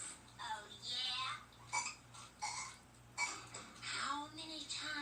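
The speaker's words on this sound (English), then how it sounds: "I absolutely forbid burping in this household." A cartoon burping contest between two children, with a series of croaky burps in a row, each separated by a short pause. The burps are close and loud over a faint ticking background.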